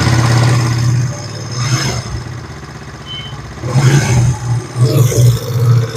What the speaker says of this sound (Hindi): अब आप इस मोटरसाइकिल का साउंड सुन सकते हैं